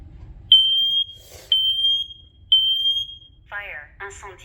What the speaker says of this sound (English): let's go ahead and test the Prefermax 9th generation combo alarm